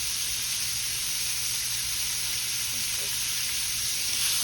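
Meat sizzling on a grill pan, a steady hissing sizzle held evenly throughout at moderate volume with no break.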